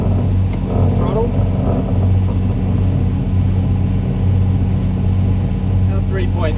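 A boat engine runs steadily at constant throttle while heading into a gentle breeze, a close low throbbing drone under faint wind and a few brief high squeaks.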